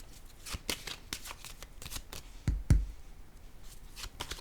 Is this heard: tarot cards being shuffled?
yes